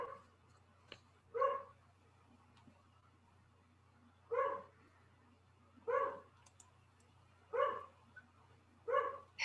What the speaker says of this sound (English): You need to stop that dog from barking at the mailman.